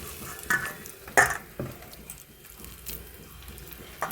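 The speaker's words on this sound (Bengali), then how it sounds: "এবার আমি একটু ডুবা তেলে ভাজলে ভালো হয়, ডুবা তেলে বড়াগুলো দিয়ে দিচ্ছি" Vegetable fritters (bora) dropped into deep oil, giving a soft, steady frying hiss with a few brief clatters and splashes, close and fairly quiet, no voices.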